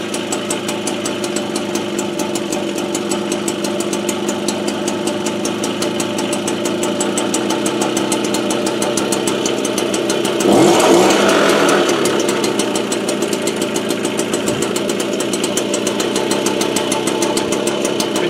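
An AV7 engine idles after a breaker-point ignition adjustment, a loud, steady, rhythmic chug that continues throughout with a slight swell near the middle and no talk over it.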